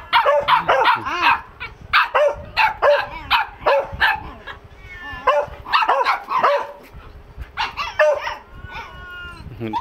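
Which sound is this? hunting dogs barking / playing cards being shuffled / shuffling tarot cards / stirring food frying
hunting dogs barking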